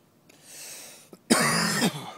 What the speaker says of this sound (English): That cough was just from having phlegm in the morning.